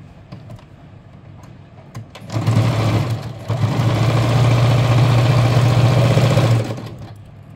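A sewing machine stitching a chudidhar top runs in a steady, loud mechanical whir for about four seconds, with a brief pause in the middle, then stops, leaving a quiet room.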